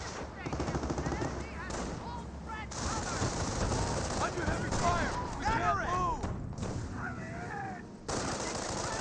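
MG42 machine gun firing in the Company of Heroes strategy game, dense sustained bursts mixed with other gunfire and explosions, while a commentator talks over the battle.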